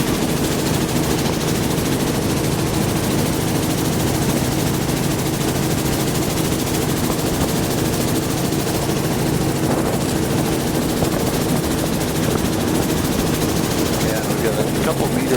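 A boat motor drones steadily and loudly while cruising along a cliff-backed shoreline, a constant rough mechanical roar with wind noise and no break throughout.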